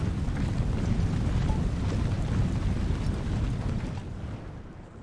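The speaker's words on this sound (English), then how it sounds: "They're those bothersome howitzers." Howitzer artillery fire in Napoleon: Total War, a sustained low rumbling roar of distant cannon blasts rolling together, loud and steady before fading slightly toward the end, with no talk.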